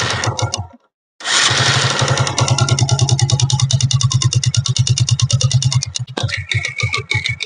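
A Hero Glamour motorcycle engine with a piston knock idles close by, a loud, rapid mechanical ticking and knocking over a steady rumble, briefly cutting out near the start and then running on unevenly.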